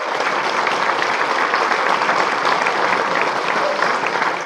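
A crowd at Ron Paul's 80th birthday party gives sustained, dense applause. The steady clapping fills the room throughout, with no talk over it.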